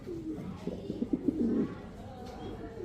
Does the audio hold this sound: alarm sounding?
no